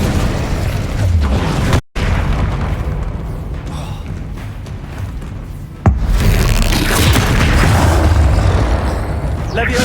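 An Incendio fire spell going off in the Hogwarts Legacy video game: loud booming bursts amid dense battle noise, with a sharp cut and another heavy burst midway, and a shouted voice over the action.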